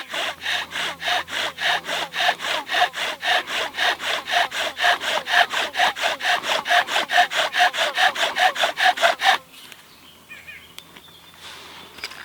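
A small bow drill spins back and forth on wood to make a fire ember, giving a steady rhythmic run of rasping strokes, close and loud, that stops abruptly near the end and leaves quiet room noise.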